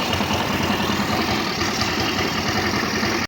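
Motorcycle engine idling after a CVT repair, a steady, close mechanical rumble holding an even level with fine rapid texture, running alone until it cuts off abruptly at the end.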